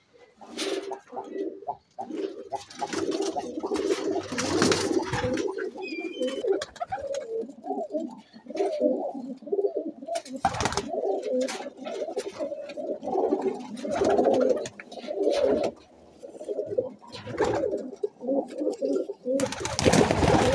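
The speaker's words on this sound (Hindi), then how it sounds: "देखिए माशाल्लाह कबूतर" Fancy pigeons, including a black-feathered bird, coo repeatedly in low throaty rolling phrases close by, with scattered rustles and bursts of noise between the calls.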